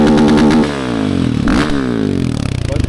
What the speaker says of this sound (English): jump on your motorcycle and just absolutely bounce it off the rev limiter